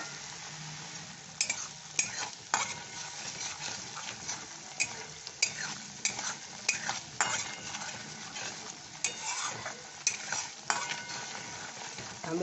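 Palak paneer sautéing in a pan, a low sizzle under frequent clattering spatula strokes that scrape and knock against the metal in an uneven stirring rhythm, close and without speech.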